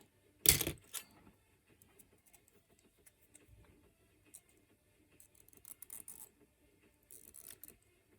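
Flush cutters snip away supports from a 3D-printed bone-fragment part, one sharp close snap near the start, then softer scattered clicks and plastic rattles.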